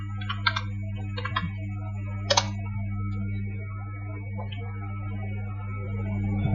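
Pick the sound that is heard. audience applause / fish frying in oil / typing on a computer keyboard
typing on a computer keyboard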